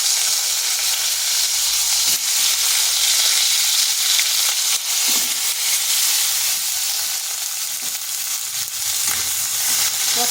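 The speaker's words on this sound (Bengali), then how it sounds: "এরপর ওই তেলের মধ্যে দিয়ে দিচ্ছি কেটে রাখা পটলগুলো।" Cut pointed gourd pieces sizzle loudly and continuously in hot oil in a pan, a dense, even frying hiss with occasional crackles and no talking.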